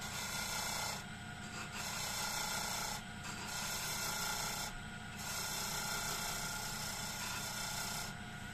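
A parting tool cuts into wood spinning on a lathe, making a steady, close rasping scrape with brief drops in intensity as the tool eases in and out of the cut.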